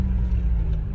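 Honda Civic Type R FN2 with standard exhaust idling warm, a steady low engine rumble holding even throughout, close and alone with no voices.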